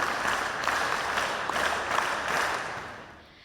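A school audience claps at a computer and robotics lab inauguration, a short burst of moderately faint, fairly even applause with some rhythmic pulsing that fades out within a few seconds.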